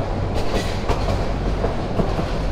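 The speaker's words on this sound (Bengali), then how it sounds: "তো এই তিস্তা এক্সপ্রেসে আজ ভ্রমণ করলাম" The Tista Express passenger train runs with a loud, constant rumble and a rhythmic clickety-clack of wheels over rail joints, heard close up from on board with no talking.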